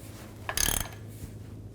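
A socket ratchet tightening a castle nut on a car's front lower ball joint gives one brief, quiet clicking burst of mechanical ratcheting in a garage, with no one talking.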